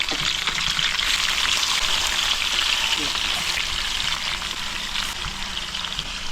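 Adobo simmering in a pan while being stirred, a continuous wet sizzle and bubbling with a voice talking over it.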